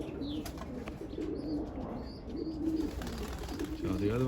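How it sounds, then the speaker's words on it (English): White racing pigeons coo softly outdoors near a loft, their low calls repeating under steady background noise with faint chirps overhead, and a person speaks at times. "The white racing pigeons down there, just thinking about flying up."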